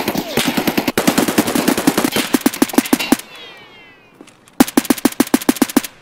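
Rapid automatic gunfire in Escape From Tarkov, long bursts of sharp close shots in quick rhythm, a short pause, then another burst.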